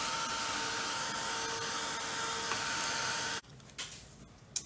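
A hand dryer blows a steady loud whoosh to dry chalk paste on a craft transfer, running continuously for over three seconds before cutting off abruptly, followed by faint handling noises.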